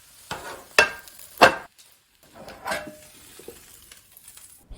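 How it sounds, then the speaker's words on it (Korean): A cabbage okonomiyaki being turned to cook its other side in an oiled frying pan: sharp utensil clinks and scrapes come in short bursts over a faint, patchy sizzle. "반대쪽도 익히고 다시 접시에 옮기면 끝!"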